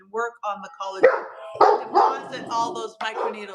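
A dog barks and yips several times nearby at home on a cold day, the barks mixed in with someone talking over them.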